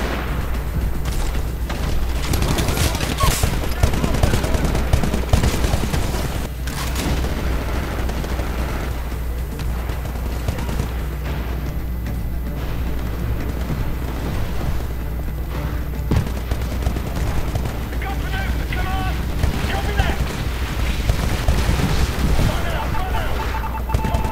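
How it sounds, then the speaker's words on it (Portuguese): Rapid gunfire and booming explosions in the video game Titanfall, dense and loud throughout with bursts of shots, while a player talks over the action. "Gastando bala à toa aí"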